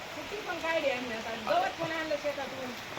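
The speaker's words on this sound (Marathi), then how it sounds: "आज दहा तारखेचा पाऊस चांगला सुरू झाला आहे" Steady heavy monsoon rain hisses in the background while a voice talks over it.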